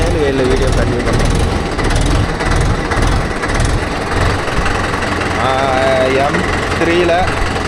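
Mahindra Yuvo Tech Plus 585 4WD tractor engine running steadily and loudly up close, a continuous rumbling drone with a faint voice in the background.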